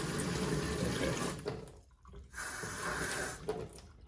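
Hot water runs steadily from a tap in a home plumbing setup connected to a tankless water heater, a continuous close splashing flow that briefly drops out and then resumes.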